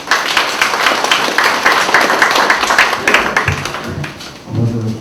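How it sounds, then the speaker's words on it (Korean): An audience at a local history book commemoration ceremony claps in welcome, a dense continuous patter of many hands that fades near the end as a low voice begins. "김성철 선생님을 큰 박수로 환영해 주시기 바랍니다"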